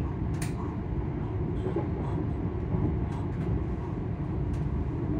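Class 385 electric train on a run toward Edinburgh Waverley, a steady loud low rumble of running gear and traction motors throughout, with a few brief higher clicks and squeaks from the carriage.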